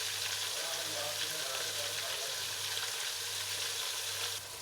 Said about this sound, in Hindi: अदरक लहसुन का पेस्ट भी डालेंगे।